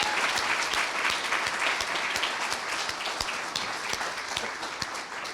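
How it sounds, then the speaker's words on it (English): An audience applauds community organizations at a Christiana Care community investment fund announcement, sustained dense clapping from a crowd, steady and fairly loud throughout. "Let's have a round of applause for these amazing organizations."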